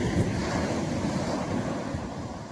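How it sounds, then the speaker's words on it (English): Sea waves break on the coast near Spurn Point, a steady roar of surf with wind buffeting the microphone throughout, close and loud with no talking. "The waves are coming."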